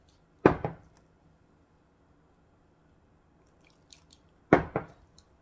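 Two brief wet squishing splashes, a few seconds apart, as udon noodles are squeezed and sloshed in cold water, close and otherwise quiet.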